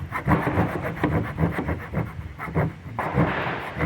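Rapid rasping strokes of a small knife saw through wood, close up, in an uneven back-and-forth rhythm with a brief pause before the strokes resume.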